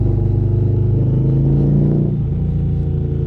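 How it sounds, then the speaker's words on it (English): A big cruiser motorcycle engine with stock exhaust rumbles at a steady idle, with a deep, throbbing exhaust note and a slight rise in revs midway. "I think this is the stock exhaust though"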